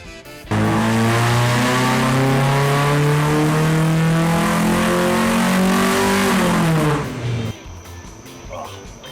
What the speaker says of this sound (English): Ladies and gentlemen, I give you a sealed race engine.